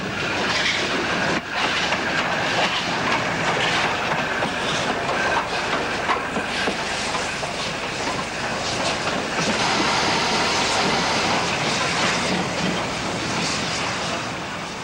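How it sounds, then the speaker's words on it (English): Steam locomotive A1 Bongrace crossing a complex railway junction on its way to Gateshead shed, a steady loud rolling rumble with continuous wheel and rail noise sustained throughout, no voices. "A1 Bongrace heads over the complex junction bound for Gateshead Shed"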